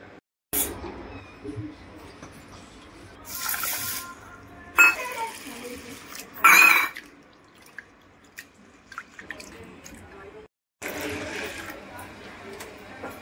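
Water splashing and sloshing in short bursts as moong dal lentils are rinsed, with drips and pauses between, and some talking in the background.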